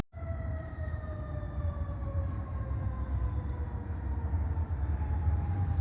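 A San Bernardino County Fire Department siren holds steady, slowly falling wailing tones over a constant low rumble, sounding continuously and moderately loud with no voices.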